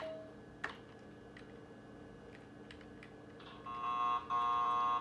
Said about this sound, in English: Oh, setting off an alarm.